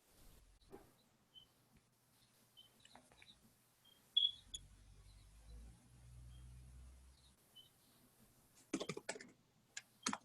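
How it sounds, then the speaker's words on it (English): Typing on a computer keyboard in a room where a group meets online, faint scattered key clicks with a short burst of louder tapping near the end, plus occasional low rumble. "I hear someone typing over there"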